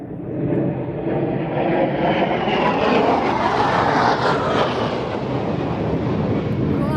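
A loud, steady drone of a propeller airplane passing overhead, swelling slightly in the middle and holding strong throughout, with no talking.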